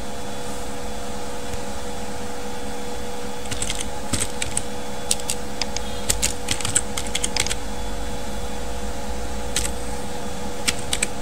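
Fingers tap on a computer keyboard in quick, irregular bursts of keystrokes over a constant steady hum, close and clear, with short pauses between runs.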